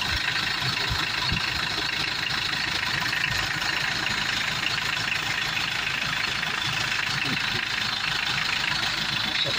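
Mitsubishi L200 pickup with a 4D56 diesel engine idling close by, a steady, dense, unbroken rumble with faint knocking texture, running alone for the full stretch.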